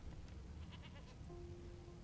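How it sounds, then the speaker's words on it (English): A goat bleats in Divinity: Original Sin 2, with a few short, moderately loud calls over a steady low game ambience, no talk. "I hear a goat."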